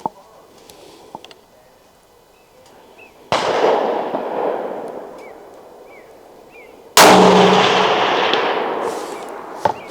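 Two loud, sharp rifle shots from a Ruger American Ranch in .300 Blackout, each a sudden crack followed by a long rolling echo outdoors, with quiet ambience and faint birdsong between them.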